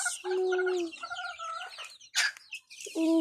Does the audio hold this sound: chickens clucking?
yes